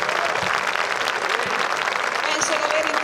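Steady, dense applause from a concert audience at an open-air show in Piazza Vecchia, loud and continuous, with a few voices and a tonal line faintly mixed in.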